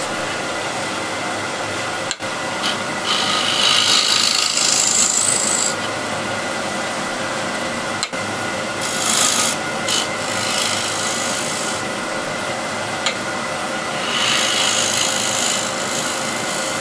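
Wood is cut on a lathe while the foot of a wooden bowl is trimmed down. A steady rasping scrape runs under the lathe's hum, rising in louder stretches, with two sharp clicks.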